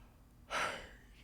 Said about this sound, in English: Yawning.